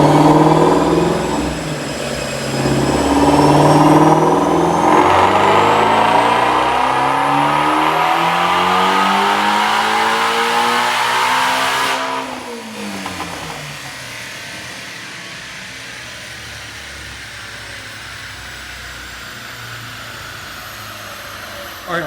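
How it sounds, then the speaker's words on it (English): A 2017 Ford Mustang GT350 with a Whipple supercharger and no headers on a dyno pull, its engine revving loud and climbing steadily in pitch for about ten seconds, then cutting off and winding down as it idles. "Check out this dyno pull."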